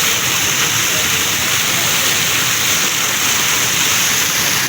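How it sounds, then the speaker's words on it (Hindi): A water fountain in Rizwan Park, Karachi, splashes continuously at night, a loud, steady broadband rush of falling water with no pauses, close by and alone. "फुहारा लगा हुआ है पानी का"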